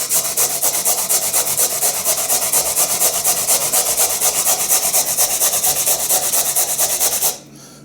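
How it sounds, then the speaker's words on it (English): Food is rubbed across the fine side of a hand grater in quick, even back-and-forth strokes, a close, loud rasping rhythm of about six strokes a second that stops abruptly near the end. "I like to use the fine side of the grater"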